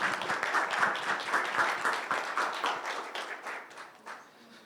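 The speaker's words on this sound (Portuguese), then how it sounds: "eu queria uma salva de palmas para o Dr." Audience applause welcoming a doctor to the stage at a live university talk on hydrocephalus, a dense, steady clapping that runs loud for several seconds and then tapers off toward the end.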